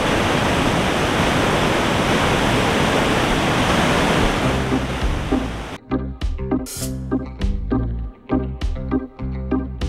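A loud, steady roar of the Pailón del Diablo waterfall in Baños, Ecuador fills most of the clip, then gives way to irregular knocks and rumbles.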